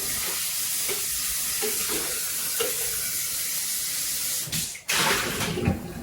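Water runs and sloshes inside a plastic pop bottle as flour is rinsed out, a steady hissing splash close by with a louder gush near the end.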